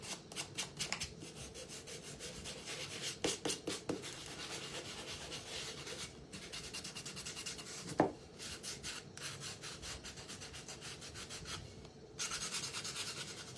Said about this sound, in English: you'll just sand it right back off.